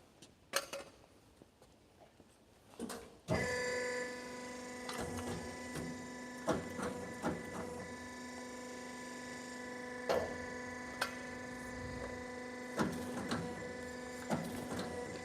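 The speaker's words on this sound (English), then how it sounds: "this machine is what we call the 3-in-1 motor stator cutting and recycling machine" A 3-in-1 motor stator cutting and recycling machine runs with a steady loud mechanical drone and hum, broken by repeated clacking mechanism strikes at irregular intervals, with no talking.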